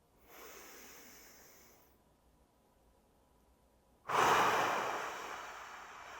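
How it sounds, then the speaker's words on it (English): A single person takes a slow, deep breath as a grounding exercise, an airy inhale followed after a short quiet gap by a louder, fuller exhale heard close up with no talking. "I'm going to start with a deep breath."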